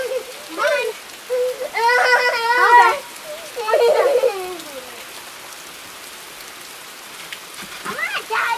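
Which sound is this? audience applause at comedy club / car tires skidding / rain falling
rain falling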